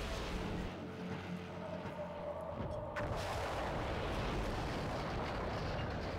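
Heavy, continuous booming of battleships bombarding in the 2004 strategy video game Axis and Allies, a dense rumbling barrage that swells louder and fuller after a brief lull, with no pauses.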